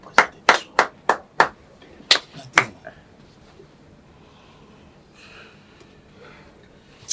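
A small audience claps in sparse, separate slaps, about eight distinct claps in the first few seconds, then near silence with faint murmuring.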